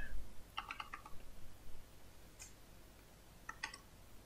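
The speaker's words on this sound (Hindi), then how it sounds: "मैं इंग्लिश में टाइप करके आपको दिखाता हूँ" Computer keyboard typing in a quiet room: two short bursts of crisp key clicks, a quick run near the start and another cluster toward the end, with a lone tap between and no voices.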